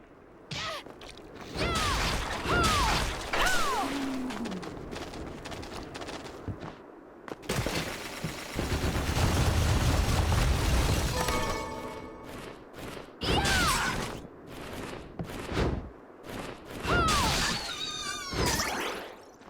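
Combat in the side-scrolling video game Bloodstained: Ritual of the Night, with a heavy downward plunging strike landing in a long rumbling crash, surrounded by clanks, whooshes, mechanical creaks and sharp hits in uneven bursts.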